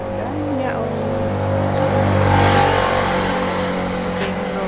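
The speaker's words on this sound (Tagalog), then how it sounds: "Yung mga motor na dumadaan." Motorcycles pass on a road beside a small park flower garden, engines rising to a loud nearby swell and fading away, with a voice talking over the traffic.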